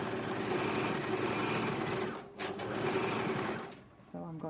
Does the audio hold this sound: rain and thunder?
no